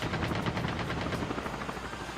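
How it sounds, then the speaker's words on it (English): Enemy helicopter in Call of Duty: Mobile, a steady loud rotor chop with rapid rhythmic pulsing, mixed with bursts of gunfire and no talk over it. "There's another enemy helicopter that could affect as a third party."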